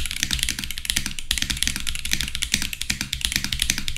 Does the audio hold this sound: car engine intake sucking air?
no